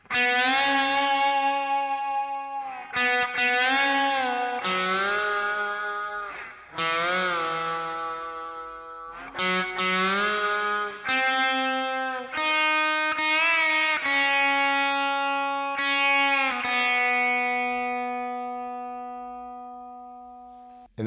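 Distorted electric guitar plays the intro riff of a song in separate phrases with pitch slides between notes, ending on a long ringing note that fades out.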